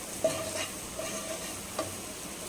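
Vegetables such as carrot and beans sautéing in oil in a pan for chilli cauliflower, a faint low sizzle with a few soft stirring clicks, no talking.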